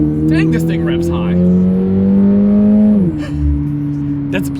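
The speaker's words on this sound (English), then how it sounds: "Dang, this thing revs high." A 2024 Toyota GR86 in sport mode revving hard under acceleration, its engine note climbing steadily and then dropping at a gear change, loud and close inside the cabin.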